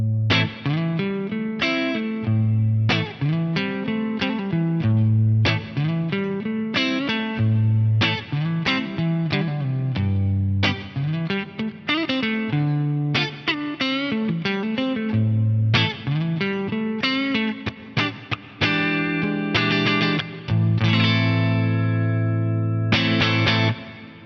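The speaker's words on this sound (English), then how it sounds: "gorgeous, pristine, clean sound, neck pickup of the Strat." A clean electric guitar on a Stratocaster's neck pickup through an Axe-Fx III plays a melodic line of single notes and chords, with a soft reverb tail ringing after each phrase.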